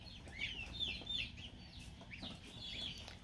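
High, thin peeping calls of baby ducks and geese on a farm, several overlapping in short bursts, fairly close over a low rumbling background.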